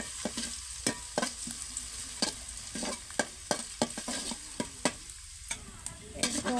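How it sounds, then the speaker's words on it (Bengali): Spice paste frying in oil for a hilsa fish curry, a soft sizzle broken by repeated sharp scrapes and knocks of a spoon stirring in the pan at an irregular rhythm. "তো এইভাবে নাড়াচাড়া করে পেস্টটা একটু ভাজা হয়ে আসা"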